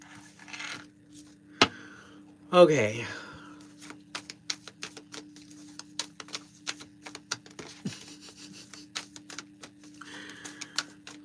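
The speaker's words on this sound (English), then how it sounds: "Let me just shuffle this right here." A deck of tarot cards is shuffled by hand in a quiet room, giving a long run of light, irregular clicking snaps, with a brief spoken word early on.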